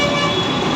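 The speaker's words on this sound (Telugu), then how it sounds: "ట్రాఫిక్ కంటిన్యూగా వస్తూనే ఉంటాయి." Continuous road traffic near a metro station in Chennai, a loud steady roar of passing vehicles with a car horn sounding throughout, close by and without talk.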